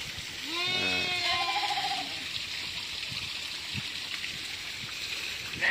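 Goats bleating on a village livestock farm in Indonesia, a wavering multi-note bleat up close near the start, followed by a steady noisy background that sounds like running water.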